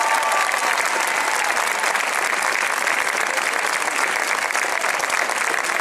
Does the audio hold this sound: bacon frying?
no